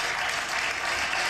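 A brief, dense wash of audience clapping fills a recorded TV show studio, a steady hiss of many hands at moderate loudness with no voices.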